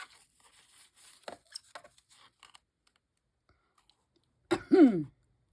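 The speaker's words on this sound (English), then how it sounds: "Sorry guys, I'm going to try my best not to cough in your ear." A single close, sharp cough with a short voiced tail, heard during a grungy steampunk crafting session after a stretch of faint clicks and crinkles.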